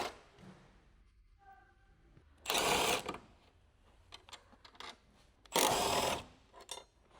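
An electric impact wrench with a large 14mm deep socket spins off the upper coilover mount nuts on a 2019 Mazda 3 sedan, two loud rattling bursts of under a second each with quiet workshop clatter between.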